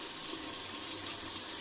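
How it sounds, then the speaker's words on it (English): Hot water runs from a tap over a Merkur 34C safety razor, a soft, steady hiss of flowing water with no breaks. "So I'll have the water going right through here, kind of running through the razor"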